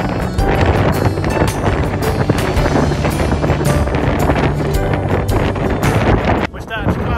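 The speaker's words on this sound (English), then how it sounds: "that's a waterfall coming back up the other way because it's that windy" Strong, gusty wind buffets the microphone at Stanage Edge, loud and continuous roaring noise throughout, with a brief voice near the end.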